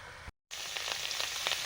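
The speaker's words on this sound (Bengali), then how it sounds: "শুকনো কড়াতে একটু নেড়ে নিচ্ছি" Cauliflower leaves stirred in a dry wok, giving a soft steady hiss and rustle with a few light scraping strokes, broken by a short moment of silence.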